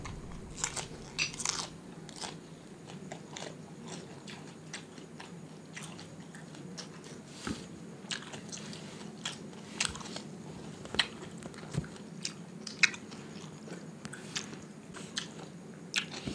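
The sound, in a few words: crunching crispy fried shrimp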